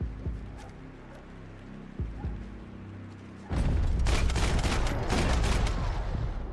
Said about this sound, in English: Probably a grenade launcher.